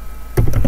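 A short burst of a few computer keyboard keystrokes, close and loud, clicking in quick succession over a low steady background hum.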